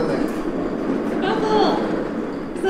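Steady rumble of a moving train carriage fills the space throughout, with faint rattles and a brief squeal-like tone mid-way, while a person talks softly over it.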